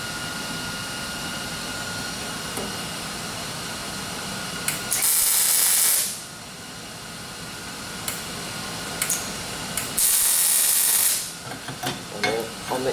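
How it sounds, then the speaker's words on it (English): Welding diamond weld-in inserts: a steady crackling, hissing arc runs throughout at moderate level, with two louder bursts of harsh spitting hiss and a few short sharp clicks near the end. "And I always like to weld the back."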